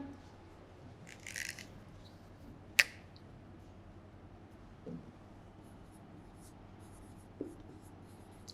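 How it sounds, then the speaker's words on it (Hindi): Pen writing notes by hand during a Class IX social science lesson: soft scratchy strokes in a few short bursts, faint and close, with a sharp tap and otherwise quiet room noise and no talking. "चलिए पहले इन 2 पॉइंट्स को लिख लेते हैं"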